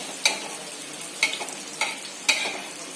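Ingredients for sheer khurma roasting in a pan until golden, a soft continuous sizzle broken by four sharp scraping stirs of a spoon at roughly even intervals.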